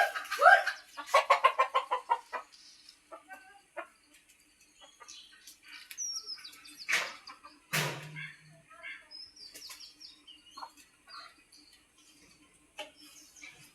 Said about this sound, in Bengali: এটা হচ্ছে দেশি মুরগি